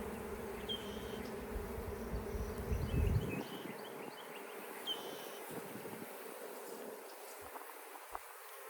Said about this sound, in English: The bees are fairly calm.